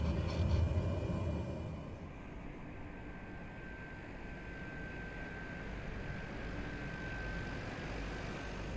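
A bush plane in Microsoft Flight Simulator drones with a steady, broad engine roar, a little louder at first, then holding evenly with a faint whine above it.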